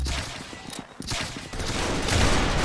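Gunfire in the Roblox game Arsenal, a few sharp cracks and bursts in quick succession with a brief gap, loud and close over game noise.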